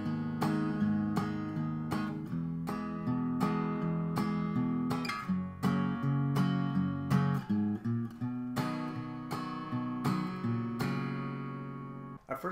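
An acoustic guitar tuned a half step down plays a song intro alone, with a steady sequence of strummed chords ringing in a clear, close, rhythmic pattern and no talking.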